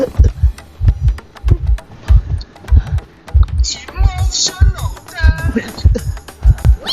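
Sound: heartbeat sound effect in video game Identity V

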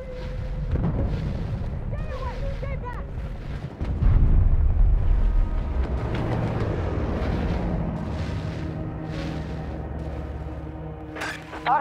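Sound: grenade explosion in the video game Battlefield 2042

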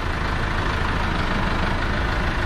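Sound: tractor engine running with ROHR hydraulic front loader

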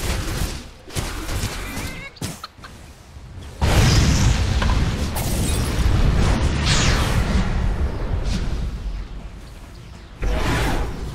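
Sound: tower under attack in the video game Dota 2

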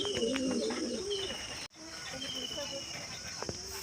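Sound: pigeons cooing

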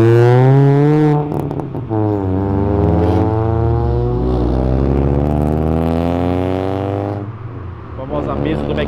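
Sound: car accelerating out of a car event after clutch slip

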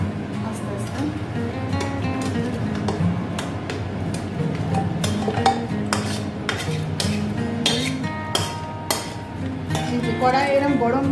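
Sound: stirring meat in a hot pot

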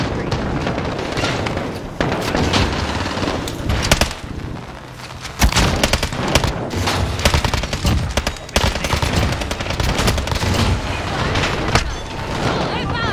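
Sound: incoming gunfire in Call of Duty Warzone video game

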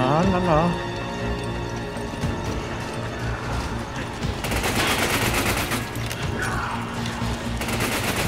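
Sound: machine gun fire in the video game Resident Evil 5

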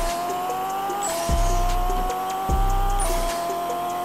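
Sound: car engine revving in Pixel Car Racer video game

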